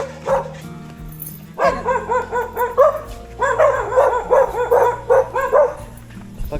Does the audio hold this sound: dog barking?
yes